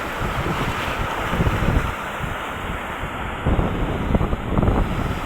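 Strong typhoon wind roars across the microphone while big waves crash at the shore where boats are moored, a loud continuous rumbling wash with surges of surf.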